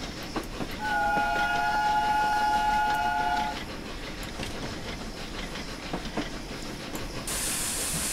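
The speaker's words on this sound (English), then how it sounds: "Nice chuffing sound, whistles for these people as we go past." The wartime Flying Scotsman steam locomotive in a video game chuffs along with soft rhythmic puffs and hiss while its whistle blows steadily for a few seconds, then steam vents sharply.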